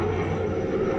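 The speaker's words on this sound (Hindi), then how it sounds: "पहली बार इस हेलीकॉप्टर की ऐसी आवाज़ सुन रही है, ऐसा लग रहा है कोई चक्की चल रही है" Helicopter passing overhead with a steady, loud, grinding mechanical drone like a flour mill, a dense continuous rumble throughout.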